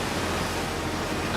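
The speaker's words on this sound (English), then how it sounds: "Here's another probably very loud waterfall." A waterfall in the video game Outer Wilds roars as a loud, steady rush of broadband noise, continuous and close with no breaks.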